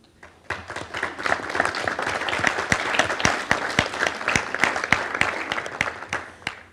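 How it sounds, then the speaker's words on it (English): A crowd at a high school National Honor Society induction ceremony gives sustained, steady applause of many hands clapping, with sharp individual claps standing out over dense clapping for about seven seconds. "Give them another round of applause."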